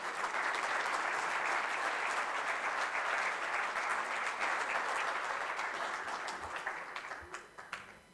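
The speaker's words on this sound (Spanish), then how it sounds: "Ahora el aplauso." An audience at a naval book launch breaks into sustained applause, a thick, even roar of clapping that carries for several seconds before thinning out and fading toward the end.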